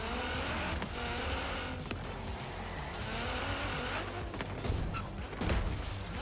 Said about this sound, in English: Almost to the point of tire screeching understeer.